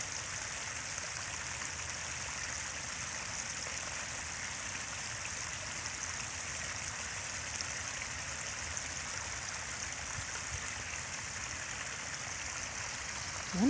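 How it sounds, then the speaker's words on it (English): Water from a woodland stream spills steadily over a small waterfall on a nature walk, a continuous broadband rush that holds even and close throughout with no talk. "Look, it's going down a waterfall"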